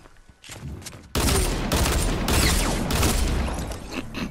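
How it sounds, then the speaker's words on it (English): Sustained rapid minigun fire in a video game, a dense continuous roar that kicks in abruptly after a few scattered shots and holds loud for several seconds. "I hear a minigun."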